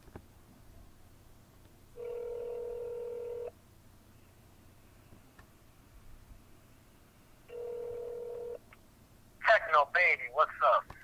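A telephone call rings out with two separate bursts of ringing tone over a quiet background, then a voice speaks near the end.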